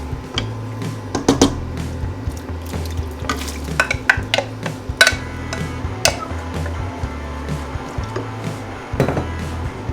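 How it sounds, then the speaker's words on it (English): Diced potatoes tumble into a soup pot and get stirred, with repeated scraping and knocking of a utensil against the pot over a low steady bubbling, close and moderately loud throughout. "We're going to add our diced potatoes"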